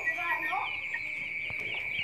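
Two-week-old broiler chickens chirp and cluck softly on a farm, with a thin high piping call held over low scattered clucks.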